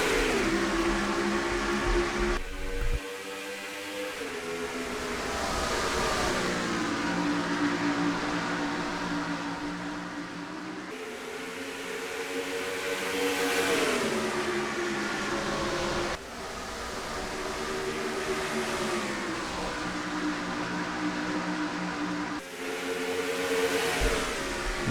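Race cars at the Iowa green flag in a racing video game roar continuously as engines rev and climb through the gears, the pitch rising and dropping at each shift across a long, loud stretch.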